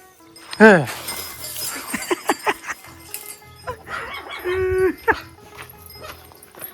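A bullock lows once, loud and close, on a village farm in Maharashtra. Scattered knocks and shuffling follow, then a second drawn-out call near the end.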